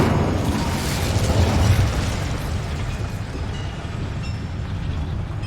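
Incendio fire spell blast cast in the wizarding video game Hogwarts Legacy: a dense, roaring burst of flame that swells around the second mark and then settles into a steady crackling rumble.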